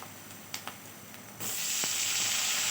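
Onions fry in hot oil for a homestyle Bengali fish curry, starting with a few light clicks before a loud, steady sizzle suddenly takes over up close.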